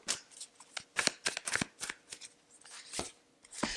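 A deck of tarot cards is shuffled by hand up close, giving quiet, irregular riffling and snapping flutters with short pauses between them.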